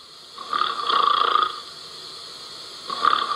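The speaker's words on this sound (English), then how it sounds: "He was snoring." Loud snoring in two drawn-out, raspy breaths with a quiet pause between them, close and alone.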